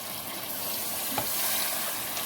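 Water streams into a cooking pot of mutton and potato curry, making a steady, moderately quiet rushing hiss that lasts the whole stretch without any voices.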